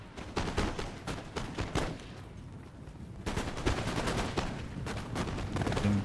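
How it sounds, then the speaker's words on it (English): Musket volleys in Total War: Empire, a run of sharp cracking shots and rolling gunfire, dense in the first two seconds, then a steady battlefield roar with scattered shots continuing throughout. "Here we go with the first mine, first volleys."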